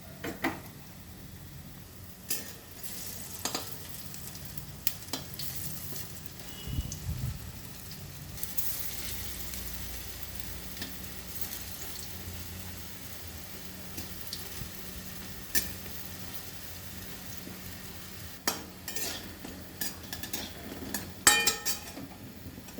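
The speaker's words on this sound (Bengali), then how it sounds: "ছোলার ডাল আর এই কাঁচা লঙ্কা নুন হলুদ দিয়ে মেখে ভেজে নিচ্ছি, বড়া করে দিচ্ছি।" Chana dal fritters mixed with green chilli, salt and turmeric deep-fry in oil, giving a soft, steady crackle dotted with scattered sharper pops, fairly quiet throughout.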